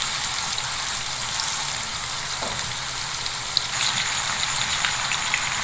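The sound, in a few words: beef Bihari kebabs sizzling while frying in a pan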